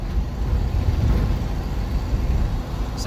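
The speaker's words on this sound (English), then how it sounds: "Sounds like an old Jeep." An old Jeep jolts over bumpy ground, its cabin filled with a continuous deep rumble and rattling road noise, with a brief higher squeak near the end.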